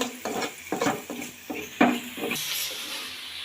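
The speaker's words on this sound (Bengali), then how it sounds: "তেল দিয়ে সাথে হচ্ছে পেঁয়াজের কলি আর হচ্ছে কাঁচামরিচ দিয়ে সুন্দর করে লাল লাল করে ভেজে নেব" Onion shoots and green chilies fry in oil in a pan for noodles, with bursts of stirring and scraping over a sizzling hiss that swells toward the end.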